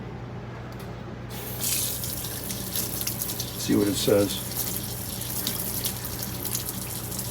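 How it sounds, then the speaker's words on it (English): Hot water runs from a tap into a sink, a steady close gushing rush that starts abruptly and continues alone except for brief spoken words partway through. "Let's put some hot water on it."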